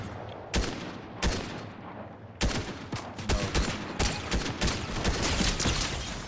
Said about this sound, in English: No way, he shot me with that sniper.